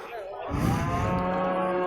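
Close by at the Tokmok livestock market, a cow lets out a single long, rising-then-steady moo, loud and clear over faint background bustle.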